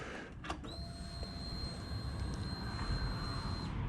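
A Vulcan 1600 motorcycle engine is cranked, giving a steady high starter whine over a low rumble for about three seconds before it cuts off.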